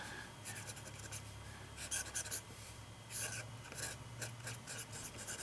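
A vintage Franklin syringe-filler fountain pen, about 120 years old with a flexible nib and heavy ink flow, scratches across unfriendly paper in a steady run of close, soft rasping strokes with short pauses between them.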